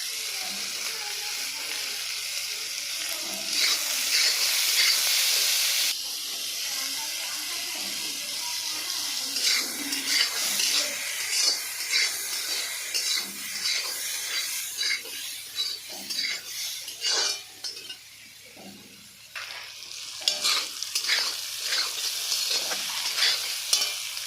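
Jackfruit pieces frying in oil with turmeric and salt in a pan, with a continuous close sizzle and repeated scraping stirs of a spatula, the spitting rising and easing throughout, no talking.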